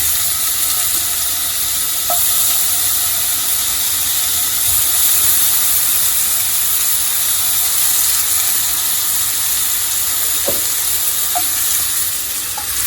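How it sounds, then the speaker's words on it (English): Steady, loud sizzling hiss of marinated shrimp frying in a hot pan, with a few faint clinks of utensils over the continuous crackle. "now pan is nice and hot. See that sizzle?"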